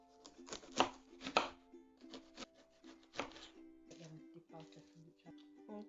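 Onion is chopped on a board for Sri Lankan pakoras, with crisp, close knife strikes: a few loud chops, then a quicker run of lighter cuts, while a voice talks intermittently alongside.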